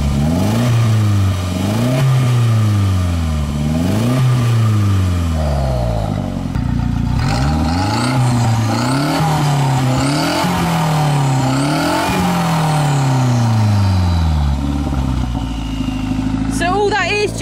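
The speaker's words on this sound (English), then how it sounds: "so it makes the engine spool up quicker because there's less back pressure" Small turbocharged Smart car engine revving repeatedly in rising and falling bursts, loud and close, with a turbo whoosh, while people talk over it.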